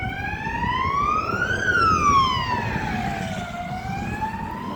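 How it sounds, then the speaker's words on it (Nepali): An ambulance siren wails past on a street in Belgium, its two-tone sweep rising loud as it nears and then falling away, over steady traffic rumble with no talking. "एम्बुलेन्स कस्तो दुख्राएर गएको"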